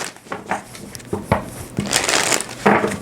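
A few crisp riffling bursts of tarot cards being shuffled, close and brisk, with short pauses between them and no talking.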